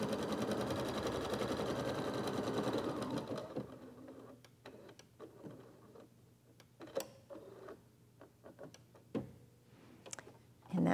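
An embroidery machine stitches an in-the-hoop fabric egg holder, a loud rapid mechanical chatter for several seconds that stops, followed by scattered clicks and light handling noises.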